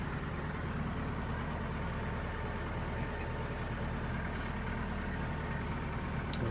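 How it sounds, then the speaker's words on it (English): A de Havilland Chipmunk aircraft engine idling on the ground before taxi, a steady low, even drone with a constant throb, heard from close by with no talk. "Engine keeps running, temperatures and pressures are good"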